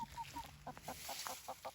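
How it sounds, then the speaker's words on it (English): Chickens clucking in short, repeated bursts, several birds close by, with soft background noise and no talking. "Hey, chickens."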